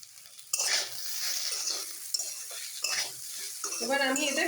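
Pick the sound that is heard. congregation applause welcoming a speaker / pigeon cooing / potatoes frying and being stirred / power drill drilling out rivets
potatoes frying and being stirred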